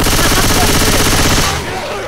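Rapid automatic gunfire from a video game, a dense continuous burst of shots that stops abruptly near the end, leaving a quieter tail.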